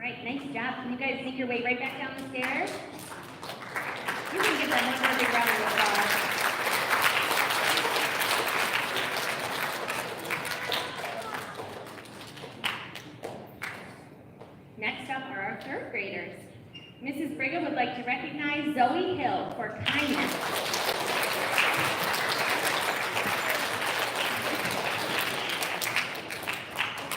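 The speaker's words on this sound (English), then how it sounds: "You can give them one more big round of applause." An elementary school audience applauds students at a recognition ceremony, a steady, dense wash of clapping that fills most of the span, briefly thinning in the middle before swelling again, with a voice speaking over parts of it.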